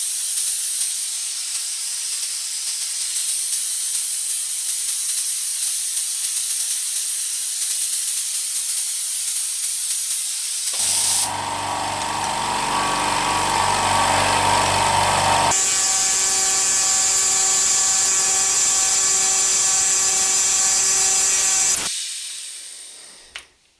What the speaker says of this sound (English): when you're running HVLP spray gun on full trigger